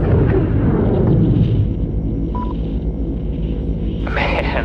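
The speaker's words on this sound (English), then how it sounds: "arm the AGM, find yourself a target, and fire away" A loud deep rumbling blast from an AGM missile striking in the Angel of Death game, decaying over a few seconds, with a short tone partway through and a fresh crackling burst near the end.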